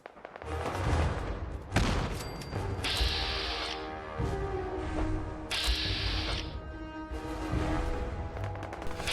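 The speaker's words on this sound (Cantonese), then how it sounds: "咁呢度開始聽到槍聲" Gunfire from the video game Fallout 4 crackles in dense bursts of shots and sharp mechanical clacks, alternating with brighter hissing blasts over a busy, continuous backdrop of game sound.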